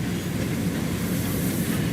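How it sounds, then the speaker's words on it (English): An SY steam locomotive train runs on a coal mine railway in the Chifeng area of China, giving a steady close rumble and rolling roar of wheels and cars with no pauses and no talking. "The railway uses the only two SY locos known to be fitted with smoke deflectors."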